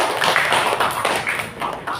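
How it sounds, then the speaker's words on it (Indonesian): Classroom of schoolchildren clapping hands together, a dense, continuous patter of many small claps filling the room at close range for a couple of seconds. "Tepuk tangan dulu."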